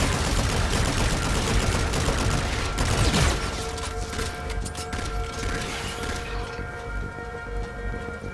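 Gunfire in Call of Duty: Infinite Warfare, a dense rattling barrage that runs for the first few seconds and then fades into a mechanical hum with a sustained tonal whine.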